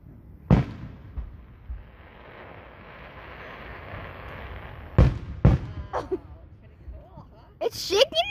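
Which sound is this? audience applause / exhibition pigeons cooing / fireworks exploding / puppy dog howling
fireworks exploding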